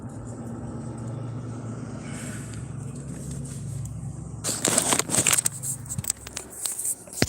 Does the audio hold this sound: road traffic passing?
yes